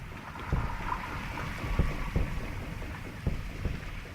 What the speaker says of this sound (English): Part of what may sound like a boat to you is actually echolocation.